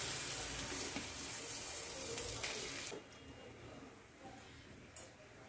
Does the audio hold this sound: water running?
yes